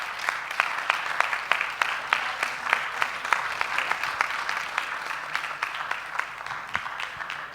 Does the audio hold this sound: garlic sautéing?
no